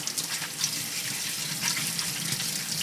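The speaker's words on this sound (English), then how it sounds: "I like to wash it just quickly rinse." Clams are rinsed quickly under a running kitchen tap for a seafood pancake, a steady close splashing of water alone with no talk.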